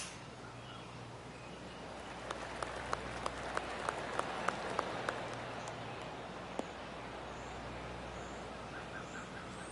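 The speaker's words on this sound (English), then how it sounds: "I can hear the golf claps around the course." Scattered golf gallery claps from a virtual crowd around the course in PGA Tour 2K25, a loose run of sharp, distant hand claps over steady outdoor ambience and faint birdsong.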